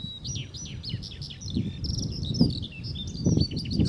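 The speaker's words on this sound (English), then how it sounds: "Listen to that skylark." A skylark sings a rapid, continuous stream of high warbling and trilling notes over soft low rustling wind noise.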